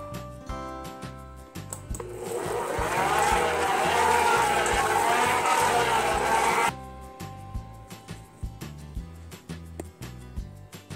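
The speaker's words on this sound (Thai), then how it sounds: "นี่ค่ะสีม่วงใส่ลงไปเลยค่ะแล้วก็กดปั่น" A blender whirs through purple taro-coloured keto bun batter, running for about five seconds as a loud, steady grind over soft background music, then cutting off.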